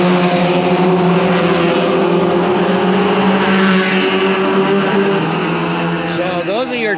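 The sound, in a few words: Toyota Yaris race cars racing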